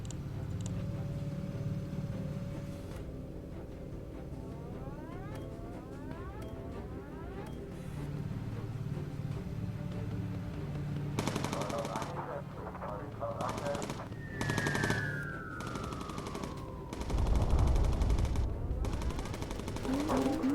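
Flak gun fire in the video game Bomber Crew, a run of loud bursts and booms over a steady engine drone, with people talking throughout.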